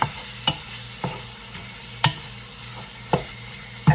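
A whole medium onion is stirred into ground beef frying in its own fat in a pan: a low steady sizzle punctuated by about eight sharp spoon scrapes and taps at a roughly even pace.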